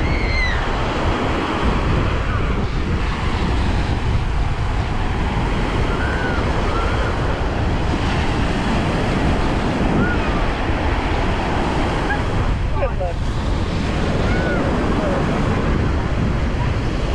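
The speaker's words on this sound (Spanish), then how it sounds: "¿Habéis visto el mar? Qué bonito." Sea waves washing onto the shore at Mayakoba, a continuous broad rush of surf with steady wind buffeting the microphone throughout, loud and close.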